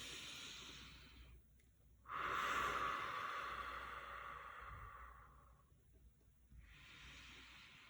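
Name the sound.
taking three deep breaths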